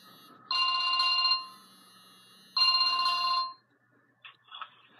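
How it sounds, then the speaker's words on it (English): A phone rings for an incoming call in two long electronic bursts separated by a short silence, close and clear with no talking. "And someone's calling me."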